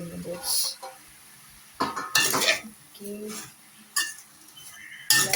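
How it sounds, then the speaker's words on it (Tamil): Vegetables and soya meat being sautéed in a pan, with metal spoon scrapes and clanks in bursts over a soft sizzle, close by; a voice talks faintly in the background. "எல்லாத்தையும் சேர்த்து வடிவாக வதக்குவோம்"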